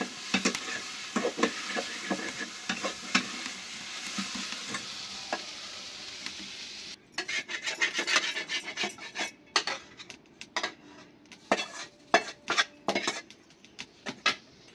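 Roasted spices are ground by hand on a flat grinding stone in a village kitchen, for an aloo parwal pointed gourd curry. Rough, repeated scraping and rubbing strokes continue steadily throughout, growing more distinct and uneven in the second half.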